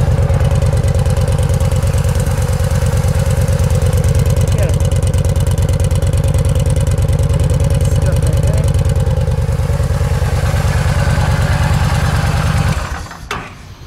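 A 2010 Yamaha V-Star 950 Touring motorcycle idles close up with a steady, low, even rumble that holds for most of the stretch, then cuts off abruptly near the end.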